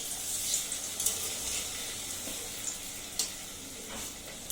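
Pitha frying in very hot oil gives a fairly quiet, steady sizzle with a few soft clicks and taps from stirring scattered through it, heard alone with no voices.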